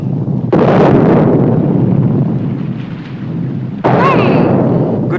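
Cannons fire a morning salute in a 1941 British film, heavy booming blasts with long rumbling roars, one strong report near the start and another sharp one later, loud and close.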